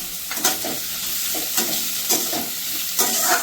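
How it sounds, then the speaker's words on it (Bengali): Onion and garlic frying in a pan, a steady sizzle broken by several spatula stirring scrapes at roughly even intervals, close and fairly loud with no talking. "এবার এটাকে 2 মিনিট একটু ভালো করে পেঁয়াজটাকে ভেজে নেব।"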